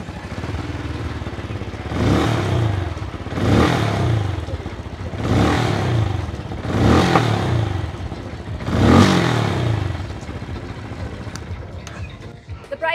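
A 500cc motorcycle engine, a QJ bike at India Bike Week, revs up sharply five times in a steady rhythm, each burst rising and falling back to a rumbling idle, close by.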